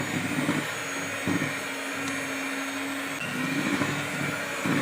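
An electric hand mixer runs at its lowest speed through steamed cassava cake batter, a steady whirring motor drone with small shifts in pitch as the beaters move, fairly close and uninterrupted.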